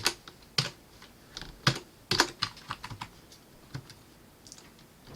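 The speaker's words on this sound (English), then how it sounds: "So I'm just going to type print." Python code being typed on a computer keyboard: irregular, close keystroke clicks in quick bursts with short pauses, fairly quiet and without talk.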